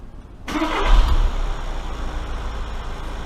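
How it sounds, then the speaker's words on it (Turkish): A Volkswagen Golf 7 engine turns over and starts abruptly after timing belt and electric water pump replacement, then settles into a steady, close rumbling idle with a broad mechanical hum. "Motoru çalıştırın."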